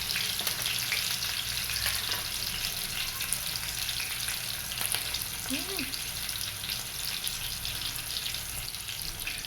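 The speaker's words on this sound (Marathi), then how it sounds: "तेल थोडंसं गरम झालं त्याच्यात आपण कांदे सोडूया" Onions frying in hot oil in a home kitchen, a constant fine sizzle and crackle throughout, with a brief faint voice-like tone partway through.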